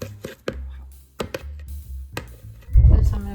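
A knife chopping fresh mint leaves into small pieces on a board: crisp, close taps in irregular bursts, ending in a louder flurry of cuts.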